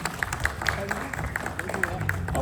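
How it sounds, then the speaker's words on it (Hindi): An audience claps for a stand-up comedian at Film City in Mumbai, keeping up a steady, evenly spaced beat over a murmuring crowd, with voices throughout. "तो एक बार जोरदार तालियां होनी चाहिए शफीक रंगरेज जी की"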